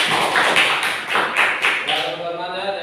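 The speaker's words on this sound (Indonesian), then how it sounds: "tepuk tangan buat teman Edi" Rhythmic group clapping for a classmate in a microteaching class, a run of brisk, evenly timed claps close by that taper off as a voice comes in near the end.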